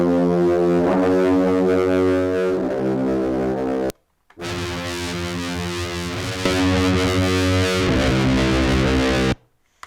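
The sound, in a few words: distorted synth bass sound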